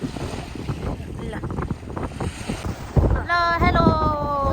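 Wind and water around a boat out at sea off Chiba, Japan, a gusty rushing backdrop buffeting the microphone, with voices talking over it toward the end.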